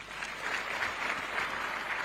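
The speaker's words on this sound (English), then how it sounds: "Can we clap for the media?" An audience at a private sector day forum on job creation claps for the media, a steady, dense round of applause holding at even strength throughout with no voices over it.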